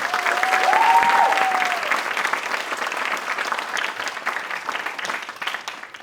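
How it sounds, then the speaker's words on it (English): An audience at a Bharatanatyam arangetram dance recital breaks into dense, sustained applause that swells loudly at first, then gradually thins and fades, with a brief high tone near the start. "Let's give her a big round of applause."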